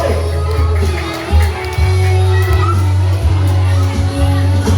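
Children cheering and shouting at an elementary school fashion show: a loud, continuous crowd of young voices, close and dense, with a steady low hum underneath throughout.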